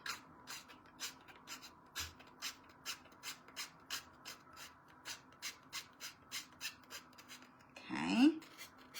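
Hand sanding of a vintage-style standing bunny craft piece gives a steady series of short rhythmic rasping strokes, close and fairly soft, ending in a louder scrape.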